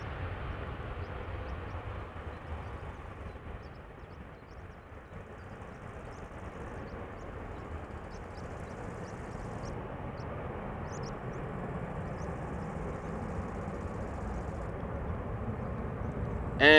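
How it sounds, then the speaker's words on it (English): Delta Airlines airliner on flight 161 to Minneapolis at Amsterdam Schiphol, a sixteen-year-old jet, gives a faint, steady engine rumble that dips briefly and then builds slightly toward the end, with no voices. "Delta Airlines Flight 161 going to Minneapolis in Minnesota"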